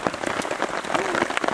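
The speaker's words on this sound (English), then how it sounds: "That was some real rain for quite a while." Rain patters densely onto a surface during a river kayaking trip on the Petawawa River, a steady close wash with sharp drop hits and a faint voice mixed in.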